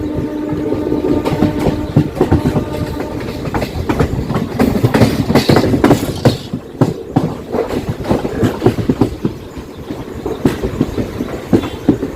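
Mangaluru–Coimbatore Intercity Superfast Express runs toward Kanhangad station, heard from aboard as loud, rhythmic wheel clatter with irregular knocks and rumbles rising and falling.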